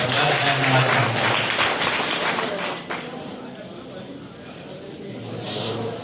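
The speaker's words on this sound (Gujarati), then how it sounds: "એકવાર એના માટે તાળી પાડજો" Audience applause at a party's 46th foundation day event in a hotel, a crowd clapping loudly at first, then thinning and tapering off, with a speaker's voice over it.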